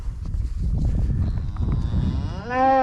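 Cattle in a herd mooing close by as a rider on horseback passes through them, several overlapping low calls with a loud drawn-out moo at the end, no talking.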